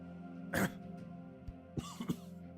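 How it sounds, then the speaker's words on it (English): A single short cough, fairly quiet, followed by a couple of softer throat noises over a low background hum. "Hope this cough goes away soon."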